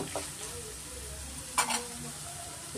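Vegetables sizzle and fry in a pan over a medium flame, with a steady soft crackle and a brief louder scrape as a spoon stirs them.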